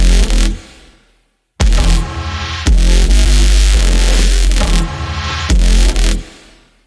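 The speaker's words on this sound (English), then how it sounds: "the last thing is the percussive bass. This one was made using 4 different layers." Percussive synth bass built from four layers with the Soundiron Rust 4 Relics library: heavy, distorted hits with deep sub-bass, playing in loud rhythmic bursts broken by a short silence and a decaying tail.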